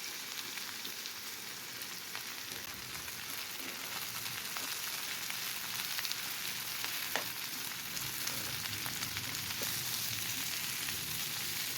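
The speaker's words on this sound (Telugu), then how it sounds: "ఇందులో క్యాప్సికమ్ కూడా వేసి ఒక రెండు నిమిషాల పాటు వేయించుకోవాలి" Potato and capsicum frying in oil in a pan for a capsicum potato curry, a steady close sizzle with faint crackles and stirring clicks, continuous and even throughout, with no voices.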